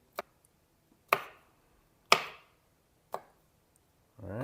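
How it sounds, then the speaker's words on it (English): Four sharp, evenly spaced knife chops through pitted olives on a cutting board, a rough chop with about a second between each crisp thud, close and clear. "We're gonna chop these up. Just a rough chop."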